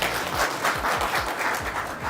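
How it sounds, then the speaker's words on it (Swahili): Applause from a seated audience at a panel discussion on health services in Isiolo County, Kenya: steady, dense clapping that fills the room throughout, with no voices heard above it. "Makofi kwake."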